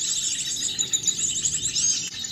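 Several Sogon birds chirp and trill in quick overlapping bursts during bird trapping, a bright, busy chorus close by with insects faintly behind and no talk.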